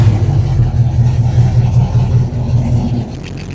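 An old truck engine idling loud through a barely muffled exhaust, a steady low rumble with a pulsing beat, close and continuous as the transmission is put into drive, dipping slightly near the end.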